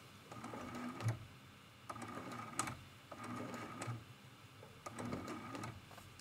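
A sewing machine makes a few short bursts of tiny locking stitches in quilting thread on an art quilt, quiet rapid clatters separated by brief pauses.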